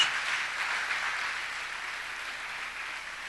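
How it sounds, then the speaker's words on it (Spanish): Applause from a church congregation honoring mothers at a Mother's Day service, a continuous wash of clapping that fades slightly over a few seconds. "¿Por qué no le damos un fuerte aplauso a las madres en esta mañana?"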